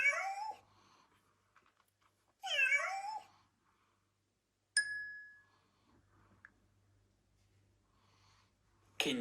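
A cat meows twice, each a clear, close, rising-and-falling cry a couple of seconds apart, then a bright bell-like ding rings out and fades before a faint final sound at the end.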